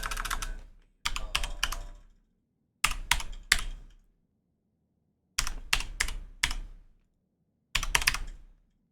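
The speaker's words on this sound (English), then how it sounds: "You're gonna hear my keyboard more now." Bursts of rapid clacking keystrokes on a computer keyboard at a home flight-sim setup, close and crisp, arriving in five separate flurries with short silent gaps between them.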